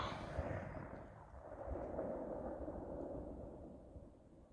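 A low, continuous rumbling roll of echo from a Tiger Rocket firework explosion rolls on for several seconds, reverberating across open country.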